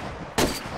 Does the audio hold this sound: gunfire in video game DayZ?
yes